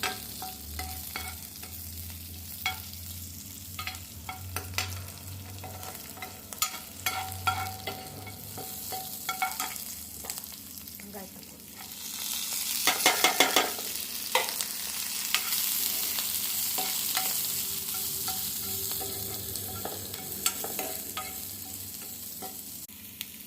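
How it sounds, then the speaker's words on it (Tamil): Onions sauteing in a pan for Chettinad-style shredded chicken, with a steady close sizzle, spatula scrapes and stirring clatter throughout, the frying swelling louder partway through before settling back into a continuous hiss. "வெங்காயம் நல்லா வதங்கிடுச்சு"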